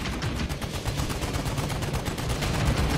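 Rapid automatic gunfire in the VR shooter Medal of Honor VR, a dense, loud, continuous burst of closely spaced shots at close range with no pause.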